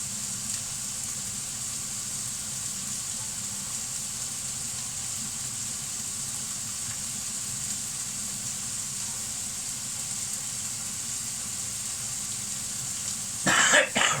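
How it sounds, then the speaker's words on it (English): Chicken pieces stir-fry in a hot pan for a peanut butter, garlic and chilli dish, giving a steady, even sizzle throughout and a brief clatter of utensils near the end. "remember you want it frying, not boiling"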